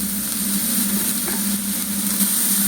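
Onion sizzles in a hot wok for veg Hakka noodles, a loud, steady hiss of frying that carries on unbroken and close, with no voices over it.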